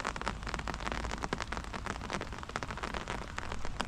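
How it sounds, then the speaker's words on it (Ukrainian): Steady rain patters close by on surfaces at a fishing spot in Poland, a dense, even hiss of drops with no voices. "Покльовок ще не було, але дощ почався."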